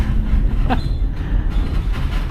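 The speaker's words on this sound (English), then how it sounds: "I'm on a train, guys." Steady rumbling of a Reading & Northern train rolling along the rails, with a brief high squeal from the wheels partway through; no talking.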